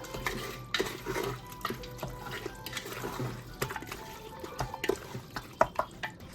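Chicken biryani being stirred in a pressure cooker, with a spoon clinking and scraping against the metal pot in irregular close taps over a wet, sizzling background.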